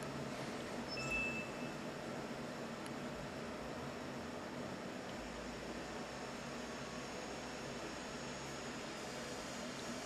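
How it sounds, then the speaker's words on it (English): Cooling fan at the back of a Toshiba Libretto W100 dual-screen laptop gives a faint, steady whooshing hum that holds evenly throughout. "And that noise you hear is the fan in the back."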